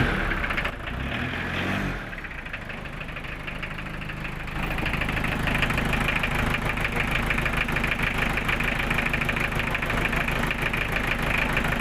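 An owner-type jeep engine turns over and settles into a steady, slightly knocking idle, a continuous close mechanical rumble with no talking.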